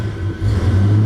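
A car engine with an SCT Eliminator chip installed, in an American Muscle BAMA setup, is given gas, a loud close low rumble that swells slightly without talk.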